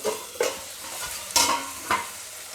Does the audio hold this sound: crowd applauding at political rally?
no